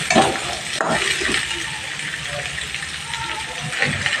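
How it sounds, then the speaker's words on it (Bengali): Pumpkin, potato and jackfruit seeds stirred and fried in a pan for curry, a steady sizzle with scraping stirs and a brief clatter near the start. "দিয়ে ভালোভাবে নাড়াচাড়া করে 2-3 মিনিট ভাজার পর মশলা দেবো"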